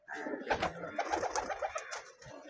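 Giribaz pigeons coo and flutter close by as they are let go, a soft cluster of throaty calls over a couple of seconds with some wing noise.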